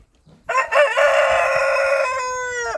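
A rooster crows once, loud and close, a long drawn-out call lasting about two seconds with no other sounds around it, at a backyard flock of Australorp and Cochin chickens.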